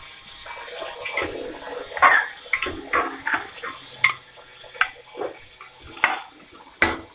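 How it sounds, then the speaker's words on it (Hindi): Water is poured into a pot of matar biryani as it cooks, coming as a run of uneven splashes and clinks over several seconds, close and moderately loud, with no talking. "अब इसमें पानी डालें,"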